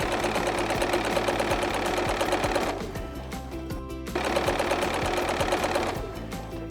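A sewing machine stitches strip sets of fabric, its needle running in a loud, fast, steady mechanical chatter that pauses briefly midway and then resumes, with no talking.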